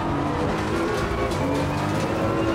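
A GT race car in Assetto Corsa Competizione accelerates hard, its engine roaring loud and close with rising pitch and faint tire noise over the continuous drone.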